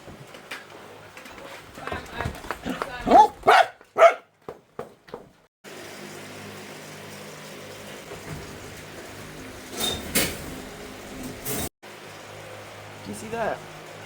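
Dogs at an animal sanctuary bark in a quick run of loud, sharp barks about to be fed, then quieter indoor background with a few thumps follows.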